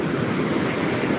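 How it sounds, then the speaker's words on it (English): Ocean waves wash onto a Gulf beach in Mexico with a loud, continuous roar of surf mixed with wind noise on the microphone. "Look at the waves, eh?"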